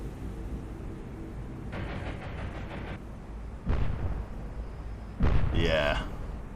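Torpedo explosion in the submarine video game Cold Waters, heard as a loud, low boom followed by a noisy rumble, with a brief burst at the end and a steady game background beneath.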